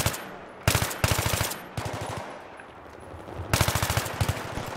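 Loud, close automatic rifle bursts from a Battlefield 3 multiplayer match, several rapid strings of shots broken by short pauses, with no talking over them.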